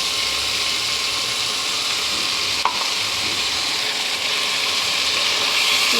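A paste of ginger, green chilli, cumin and peanut fries in a hot pan, giving a steady, close, loud sizzling hiss, with one sharp utensil clank partway through.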